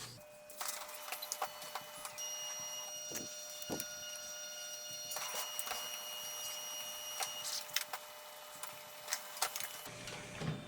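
A Samsung CLP-360 color laser printer runs a copy job, giving off a steady mechanical hum with faint repeated ticks and clicks and a high whine throughout, fairly quiet and with no talking.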